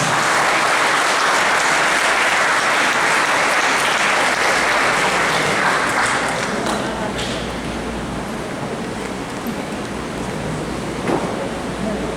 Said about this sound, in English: Let us give our ASFES school heads a round of applause.